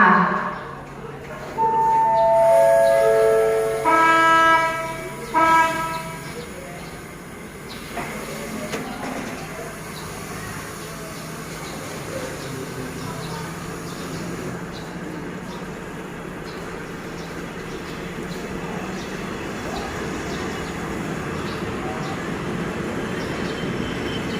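Passenger train at Ratchaburi railway station in Thailand: a station chime and public-address announcement give way to the low rumble and hiss of railcars rolling through, steady and moderately near.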